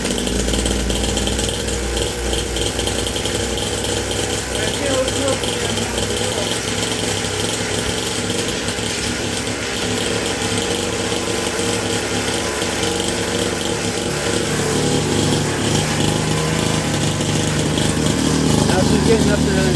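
A SYX Moto dirt bike engine idles steadily and fairly loud for the whole stretch, its low rumble holding constant and rising slightly in revs near the end.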